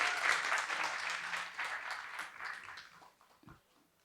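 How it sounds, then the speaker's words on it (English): Audience applause at a photography talk event, a broad burst of clapping that starts loud and steadily thins out over about four seconds, with no talking over it. "Clap for them, guys."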